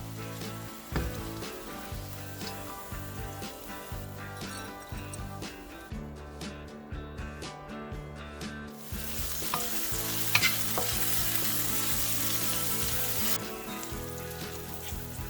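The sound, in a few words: stir-frying salt and pepper shrimp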